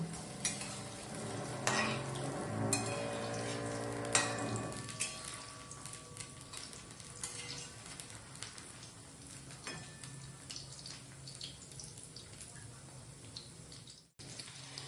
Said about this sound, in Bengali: হালকা উল্টে পাল্টে ভেজে নেব